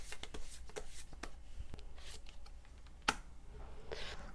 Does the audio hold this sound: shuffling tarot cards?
yes